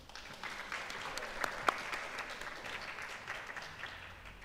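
A steady round of audience applause for an award recipient at a presentation ceremony, soft and distant, holding evenly for a few seconds with one or two sharper claps near the middle.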